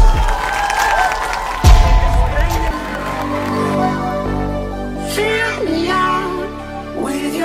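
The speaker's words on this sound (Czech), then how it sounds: "A nyní už je pojďme bouřlivým potleskem přivítat" A crowd at a school graduation ball cheers and claps loudly, and the noise soon gives way to music with singing.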